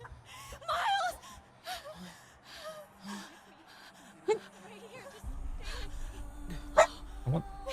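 A pet dog gives a few short barks and whimpering yips at close range, scattered between stretches of a person talking over quiet background game audio.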